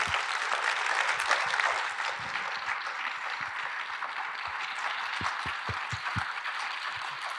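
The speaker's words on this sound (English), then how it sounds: "I'd want to please give us a round of applause for our panelists" Sustained applause from a lecture audience for a panel of speakers, a dense, even wash of clapping that holds steady throughout with a few louder claps near the end.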